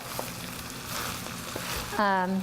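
Egg roll filling stir-fried on high heat, with a steady loud sizzle, soft scraping as it is tossed, and a brief clatter near the end.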